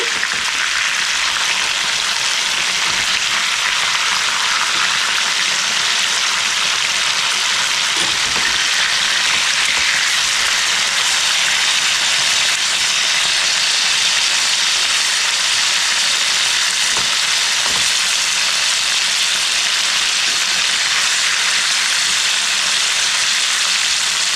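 Shankar (stingray) fish fries in a pan over a high gas flame, giving off a loud, steady hiss and sizzle for the whole stretch, with no talk.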